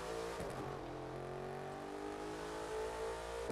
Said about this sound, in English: This car kind of sounds like a race car.